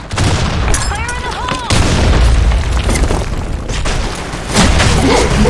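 Loud booms and blasts from grenade explosions in the shooter game Blackshot, set among continuous gunfire and game noise, with heavy thuds near the start, middle and end and shouting voices over the top.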